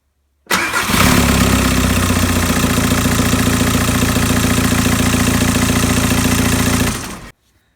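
A VW Transporter T5 1.9 TDI diesel engine, just fitted with a new timing belt, cranks and fires abruptly, then settles into a loud, steady clattering idle close by for about six seconds before cutting off.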